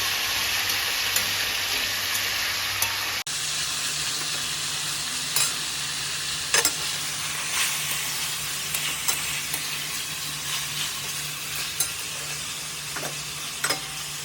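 Mango pieces with a little turmeric, cooking for a sweet-sour jaggery mango preserve, are stirred in a hot pan, giving a continuous loud sizzle and hiss with occasional soft scrapes and clicks of the spoon.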